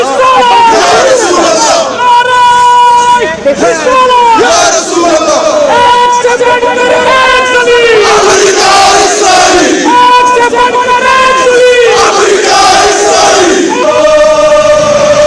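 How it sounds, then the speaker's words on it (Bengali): A large crowd chants slogans in unison against America and Israel, loud and close, with a repeating rhythmic cadence of massed voices sustained throughout. "দেখুন, আমেরিকা এবং ইসরায়েলের বিরুদ্ধে এখানে স্লোগান চলছে।"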